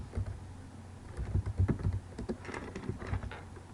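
Fingers type on a computer keyboard while writing in Microsoft Word, a close, quick irregular patter of key clicks with soft thumps, steady for a few seconds with no voice.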